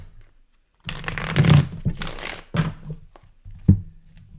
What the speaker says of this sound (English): Let's shuffle up your main spread.